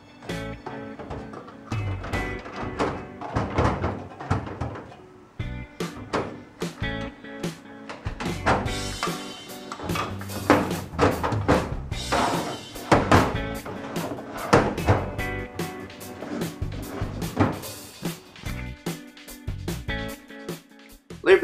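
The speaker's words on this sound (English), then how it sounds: "Testing the new lock." Cam lock on the drawers of a flood-damaged Snap-on metal tool box being tested, giving a long run of repeated sharp clicks, clunks and drawer knocks, close and fairly loud, with no talk.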